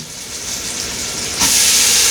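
Smoked sausage sizzling in an Instant Pot as it is pushed to one side, a steady frying hiss that jumps sharply louder partway through, close and with no talk.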